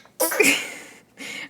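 A sneeze in a news feature about a photographer, close and loud, with a sharp breathy burst followed moments later by a shorter second sound.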